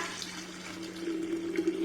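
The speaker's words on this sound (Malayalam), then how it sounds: "നമുക്ക് നാരങ്ങ വെള്ളം ഇന്നലെ ഒഴിച്ച പോലെ ഈ ജാറിലോട്ട് ഒഴിക്കാം" Lemon water poured into a jar makes a short, close liquid splashing and trickling sound over a low steady hum, with no talking.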